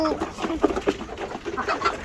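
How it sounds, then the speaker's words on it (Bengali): Soft clucking and bird calls from nearby chickens and a white rooster at night, a few short bursts over a busy background, with faint voices mixed in. "এই যে আমাদের সাদা মোরগ"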